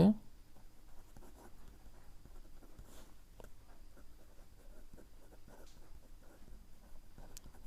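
A pen scratches softly across paper while math homework is written out, faint and close with intermittent strokes and short pauses, under low room noise.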